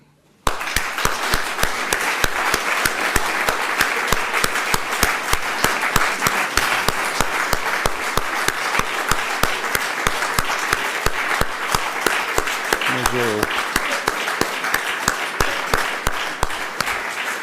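Sustained applause from a large audience at an academic opening session in Brussels, dense steady clapping that starts abruptly and continues loudly throughout, with a few faint voices underneath.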